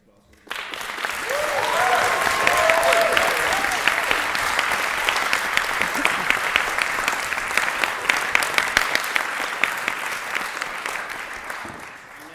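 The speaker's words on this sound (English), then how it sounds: "I think we should all give them a round of applause." Audience applause for debaters at a school debating competition final, a full round of clapping that swells quickly after a quiet start, holds steady for about ten seconds, then fades out.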